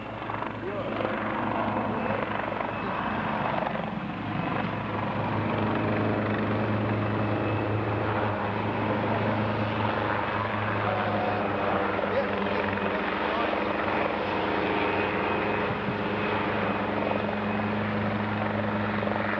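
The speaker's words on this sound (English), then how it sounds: "Helicopter you hear in the background" A helicopter over New Zealand drones steadily throughout, its rotor thrum filling the background while voices murmur faintly beneath it.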